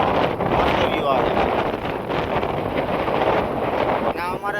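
Strong wind buffets the microphone at a scenic hilltop viewpoint near a Khodiyar Mata temple, a steady, loud, blustery roar with faint voices mixed in.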